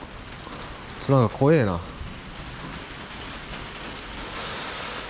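Sudden heavy rain in Thailand hisses steadily as a dense, even wash, with a rumble under it, while someone briefly speaks over it early on.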